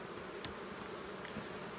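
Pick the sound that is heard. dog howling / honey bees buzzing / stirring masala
honey bees buzzing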